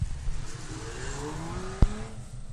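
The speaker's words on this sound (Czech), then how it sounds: "fakt to má poršácký zvuk" A car engine said to sound like a Porsche, revving up in rising tones then dropping back, fairly close, with a single sharp knock near the end and no talk.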